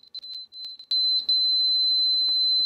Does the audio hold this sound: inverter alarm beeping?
yes